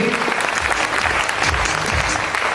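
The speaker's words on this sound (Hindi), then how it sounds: "एक बार जोरदार तालियां" A hall audience at a business recognition event claps hard and steadily for a technical achiever, a dense, continuous wash of many hands filling the room.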